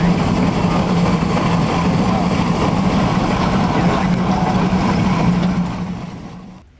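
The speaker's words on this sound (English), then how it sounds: "the Z3 was one of Peerless's most powerful traction engines, designed to dominate vast fields with brute steam force" A Peerless Z3 steam traction engine runs with a loud, steady rumbling drone that holds constant, then fades away toward the end.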